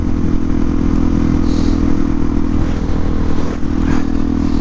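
A motorcycle ridden on a cold day hums along at a steady, loud engine drone, close up, with wind noise and some clattering scrapes and no speech.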